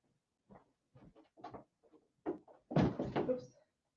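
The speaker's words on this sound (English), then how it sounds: "Let me close my door for a second." A door in a home art studio is handled and shut, a string of soft knocks and shuffling clunks building to a heavier thud and rattle near the end, close and fairly quiet.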